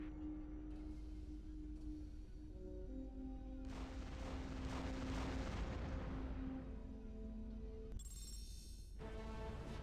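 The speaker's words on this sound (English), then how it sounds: "Artillery, you may fire." Artillery fire in the mech combat game Heavy Gear II: a heavy, roaring barrage swells for a few seconds over a droning tonal background, then cuts off.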